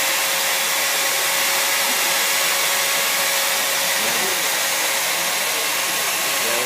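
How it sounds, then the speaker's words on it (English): Nord-Lock test rig shaking a bolted joint at a wind-energy trade show, a steady loud mechanical drone with a constant whine running unbroken throughout. "now you're gonna create some vibration"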